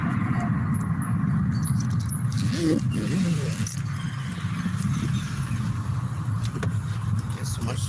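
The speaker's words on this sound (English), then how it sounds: "There's so much traffic on the road today." A car drives through busy road traffic, giving a steady engine and road rumble inside the cabin with faint clicks and rattles and no clear talk.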